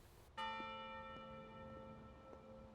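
A single bell in the video game Maquette strikes with a clear, ringing tone that sustains and slowly decays, with faint repeated pulses in its hum; no one speaks over it.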